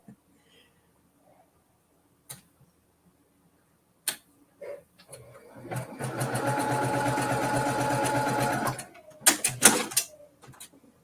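A sewing machine stitches quilt block pieces together in one steady, close run of about three seconds. Scattered handling clicks come before and after it, and there is a little talk.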